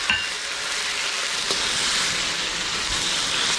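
Beef bulgogi sizzles loudly and steadily in a hot carbon steel wok, a constant crackling hiss with occasional pops, no voices.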